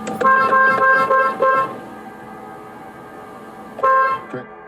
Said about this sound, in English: The furious driver tries to honk the horn, hoping the passenger will pick up his garbage.